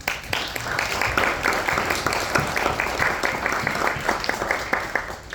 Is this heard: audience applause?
yes